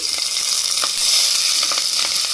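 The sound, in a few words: cumin, mustard seeds, green chillies sizzling in hot ghee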